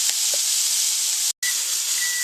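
Steady sizzling hiss of London broil searing in a hot pan, continuous and close, with a brief dropout partway through.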